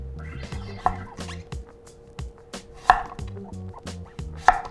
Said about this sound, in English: Flip it on its side and cut it into slices.